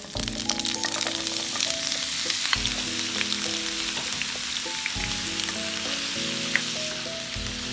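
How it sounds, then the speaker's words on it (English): Cubed paneer frying in hot cooking oil makes a loud, close crackling sizzle, broken by stirring clatter and scraping, with tonal ringing from the pan shifting every couple of seconds. "now I will add the cubed paneer"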